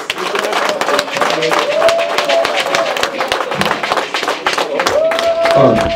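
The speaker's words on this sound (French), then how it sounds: "On applaudit très fort la présidente, Madame Henriette Lagoux." An audience claps steadily for Henriette Lagou, a 2025 Côte d'Ivoire presidential candidate, at a campaign gathering in Paris, with a voice talking over the clapping throughout.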